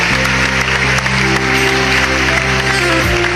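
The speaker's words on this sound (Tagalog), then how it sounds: "Kaninyong tanan usa ka masigabong palakpak" An audience claps in a steady continuous burst of applause over a low sustained musical hum, with the clapping staying dense and even from start to finish.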